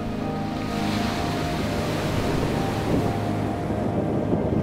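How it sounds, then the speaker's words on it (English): Lake Superior waves breaking on a deep pebble shore, a loud continuous rushing wash and shooshing roll of stones with gusting wind, no voices. "They create a loud, sweeping, shooshing sound with each wave breaking onto the shore."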